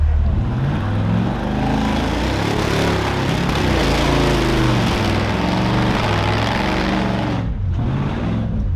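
A vehicle stuck in sand on Doc's Beach in Vernal, Utah, its engine revving hard and steadily with a throbbing, labouring drone that holds loud and close before dipping briefly near the end.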